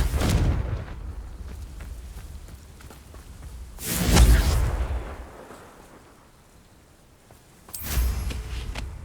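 Blasting spells from the video game Hogwarts Legacy go off in three booming explosions spaced a few seconds apart, each with a deep rumbling low-end tail, loud and alone.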